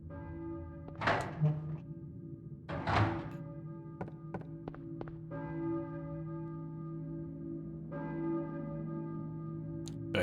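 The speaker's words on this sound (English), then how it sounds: "a church bell?" A church bell in the Silent Hill video game tolls several times, resonant and sustained, with heavy thunks and a few light taps between strikes.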